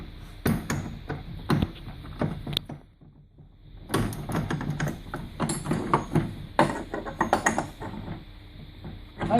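Clamps being tightened on a Widos 4400 pipe welder, heard as a string of close metallic clanks, knocks and ratcheting clicks in two bursts separated by a short quiet pause.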